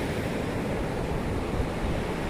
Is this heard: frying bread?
no